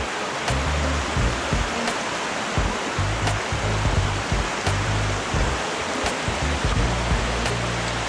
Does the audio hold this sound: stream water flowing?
yes